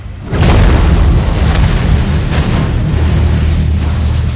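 In a Stormgate video game trailer, the massive Stormgate detonates with a loud, deep boom that swells into a sustained rumbling roar. The blast dominates with heavy low-end weight and no voices.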